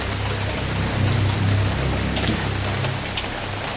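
Steady rain falls continuously on a surface, a dense even hiss of drops with a low rumbling undertone throughout, close and moderately loud with no voices.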